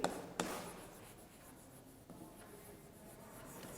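A teacher writes the date on a classroom board, giving faint, scratchy strokes that come in short bursts, with a couple of sharper taps near the start and soft rubbing continuing quietly throughout.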